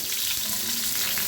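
Eggplant slices frying in oil in a pan, giving a steady, close sizzle and crackle that runs evenly without any voices.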